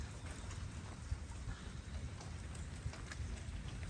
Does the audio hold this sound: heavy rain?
yes